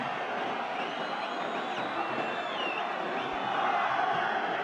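A packed stadium of roughly 70,000 at a Real Madrid vs Barcelona Clásico in the Spanish Super Cup, played far from Spain, giving a steady dense roar of crowd noise with faint whistles and shouts throughout.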